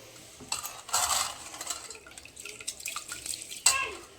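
Water is poured from a glass into a cooking pot of boiled chicken for biryani, four glassfuls in all: a close, splashing gush with uneven bursts and a brief sharper splash near the end.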